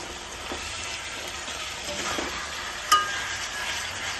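Ground coriander leaves, garlic and tomato paste sizzle softly in a pan while a spoon stirs, with one clink of utensil against the pot partway through.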